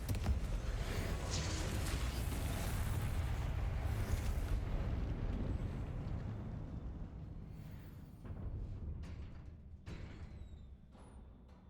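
The Confringo fire spell blast in Hogwarts Legacy lands as a loud, rolling explosive roar that holds for several seconds, then fades into a quieter rumble with scattered crackles.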